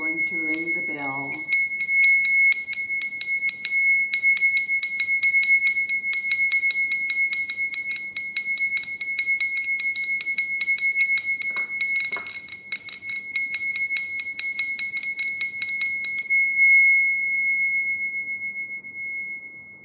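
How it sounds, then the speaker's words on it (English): A bell struck once rings out bright and sustained with steady ringing overtones that hold for about fifteen seconds before cutting off. A short voice is heard at the start. "And then finally, I'm going to ring the bell."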